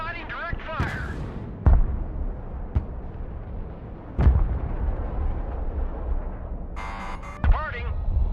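Direct-fire explosions and cannon blasts in the Broken Arrow war game land as several sharp, loud booms spaced a couple of seconds apart, with a rumbling battle bed and radio-style voice chatter running between them.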